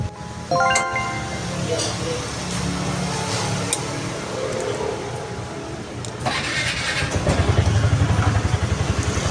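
A Piaggio Ape City 200 three-wheeler's small engine idles steadily at close range, with mechanical clatter and a rougher, louder stretch toward the end as it revs slightly.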